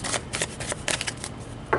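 Tarot cards are shuffled by hand in a quick series of crisp riffles and papery flicks, close and fairly loud, with no talking.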